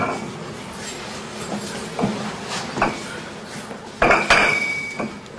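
Several bright metallic clinks of gold bars ring out irregularly, two sharp louder ones near the end, with a resonant crystal-like glassy ring over a low background hum.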